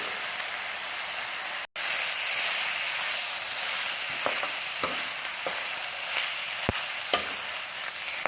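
Sliced garlic and chili frying together in a hot pan for a stir-fried eggplant and minced pork dish, a continuous close sizzle broken by occasional scraping stirs.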